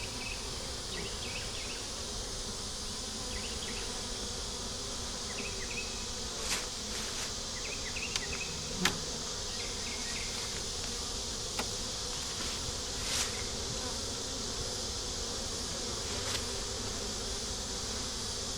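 Honeybees buzzing around an open, honey-bound three-deep eight-frame hive, a dense continuous hum close by with occasional individual bees flying past.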